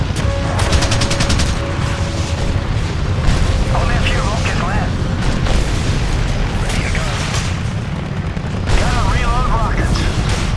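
Gunfire and explosions from the PS3 helicopter combat game Apache Air Assault, with dense rattling shots and booms running the whole way under a voice talking over the action.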